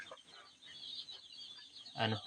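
Five hens cluck softly and intermittently in the background on a farm, with one louder, closer cluck near the end.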